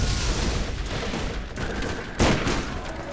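Rapid gunfire from a gun in the co-op shooter video game Borderlands, a dense continuous volley with a sharper, louder blast near the end, close and filling the whole stretch.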